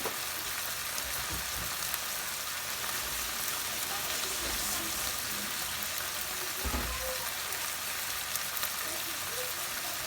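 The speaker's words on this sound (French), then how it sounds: "vous déglacez. Ça amènera un petit côté acide" Lemon juice hits a hot pan of chicken with cream and curry, giving a steady, soft hiss of sizzling that runs throughout with a few faint clicks and bumps.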